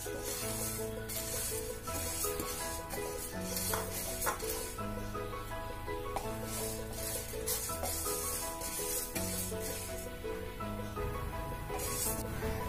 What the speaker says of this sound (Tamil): இப்போ நம்ம எடுத்து வச்சிருக்க பாசி பருப்பை ஆட் பண்ணி கொஞ்சம் வறுத்துடலாம்.